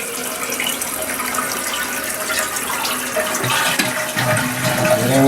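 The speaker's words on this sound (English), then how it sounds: "Let it flush, see how that goes." Toilet tank flushing in a home bathroom, a steady close rush of running water that swells slightly toward the end, with no voices.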